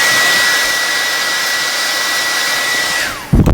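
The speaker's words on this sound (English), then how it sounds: "got a reverse ready to blow all that nasty gunk and dirt out the damn air" A vacuum cleaner set to reverse blows dirt out of an air filter, giving a loud, close, steady whooshing roar with a high whine that drops in pitch as it shuts off, followed by a brief clunk.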